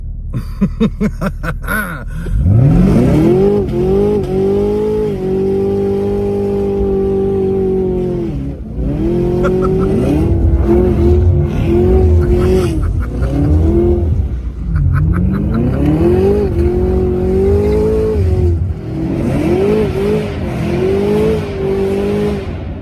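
A 650 hp Camaro ZL1 with bald tires revs hard and spins its wheels, engine pitch climbing and dropping through repeated bursts of loud, close wheelspin over about twenty seconds, with no talk.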